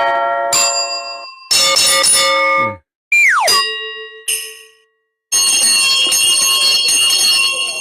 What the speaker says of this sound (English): Bells for Tinkerbell Batty